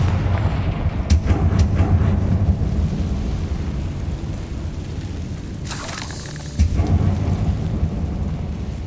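Confringo blasting spells fired in Hogwarts Legacy, heard as heavy rumbling booms over a dense low roar, with a sharp burst near the start and another thudding impact late on, loud and continuous with no talk.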